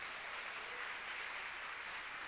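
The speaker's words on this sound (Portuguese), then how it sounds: "Vamos aplaudir o Senhor." Church congregation applauding steadily throughout, a dense even wash of clapping at a moderate distance with no voices rising above it.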